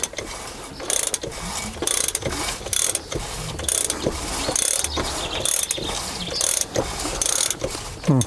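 A barn-find BMW E30 engine, stood for ten years, is turned over by hand with a ratchet, giving rhythmic clicking ratchet strokes with soft compression whooshes between them, close and steady.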